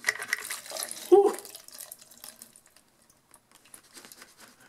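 Water splashing and pattering while a chainsaw fuel tank is flushed out, strongest in a short burst near the start and then trailing off into faint, scattered trickles.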